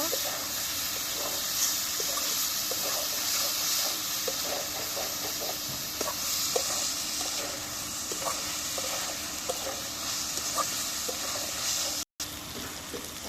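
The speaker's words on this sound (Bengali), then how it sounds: "মাছ দিয়ে দিলাম মাছ দিয়ে একটু কষিয়ে নিব" Fish sizzles steadily in a hot pan, a continuous frying hiss with small scattered pops and stirring clicks throughout, fairly close and alone with no talking.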